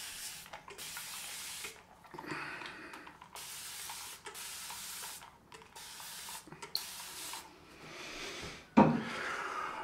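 Repeated short hissing sprays from a spray bottle, about a dozen bursts in an uneven rhythm, close and fairly quiet.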